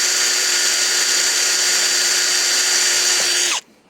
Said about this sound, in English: try and drill a hole in there